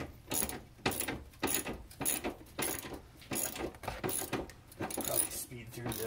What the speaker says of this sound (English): make sure you got the ratchet going the correct direction